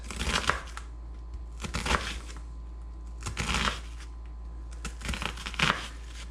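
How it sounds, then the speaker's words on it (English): A quarter onion chopped finely with a knife, heard as four bursts of rapid crisp cutting and crunching, close up with quiet pauses between them. "look how nice and fine that chopped up"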